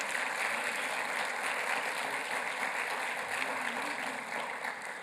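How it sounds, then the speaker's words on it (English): An audience at a colon cancer research lecture applauds the day's speakers with steady, even clapping that stays full throughout and eases slightly at the very end, with no talking over it. "let's give another round of applause for all the speakers today"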